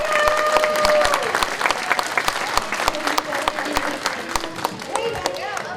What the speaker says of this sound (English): give it up for Lysandro!